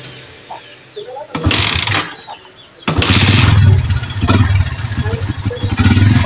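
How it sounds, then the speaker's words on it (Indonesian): A Yamaha Vixion motorcycle with a battery charging fault cranks briefly, then catches and settles into a loud, close, steady idle after a short pause, with a few quiet words spoken at the start. "Lalu sekarang kita nyalakan motor mas."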